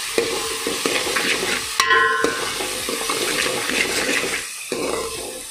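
Moth beans (matki) go into a hot pan for a Goan dish, with loud scraping stirs and sizzling in repeated strokes, close up and with no speech.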